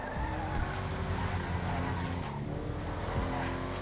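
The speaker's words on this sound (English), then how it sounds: "Let's try braking from here." An Übermacht Rebla GTS in the video game GTA 5 brakes with a continuous tire squeal over its steady engine drone, loud and unbroken for a few seconds.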